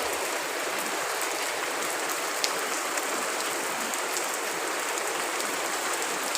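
Steady, dense rain pours down continuously, a broad even hiss with occasional sharper drops striking a surface nearby.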